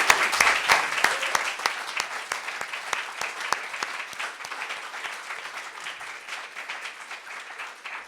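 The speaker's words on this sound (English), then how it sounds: "A round of applause for all our readers tonight." An audience at an evening literary reading breaks into applause for the readers, many hands clapping in a lively burst that gradually thins and fades toward the end.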